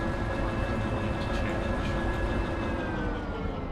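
A locomotive in the railway game Derail Valley rolls along the rails with a continuous loud rumble and a faint high whine, holding steady from start to finish.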